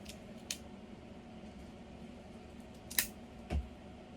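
A cigar cutter makes a straight cut on a My Father La Lealtad cigar in a quiet room, giving a few faint sharp snips and clicks, one of them louder, spread over a few seconds.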